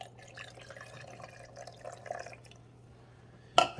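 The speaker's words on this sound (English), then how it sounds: "I'm gonna pour it back here where the water goes." Water is poured into the back reservoir of a Hamilton Beach FlexBrew single-serve coffee maker, a soft steady trickle and gurgle lasting a few seconds. It ends with a sharp clack as the lid or container is set down.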